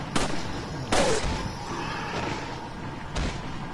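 Gunshots in a shooting video game, a few sharp separate cracks spaced over several seconds, fairly loud over steady background game noise.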